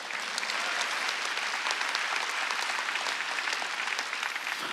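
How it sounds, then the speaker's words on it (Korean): Dense, continuous applause fills a church during Sunday worship, a congregation clapping at a steady moderate level from a little distance, with no speech over it. "박수"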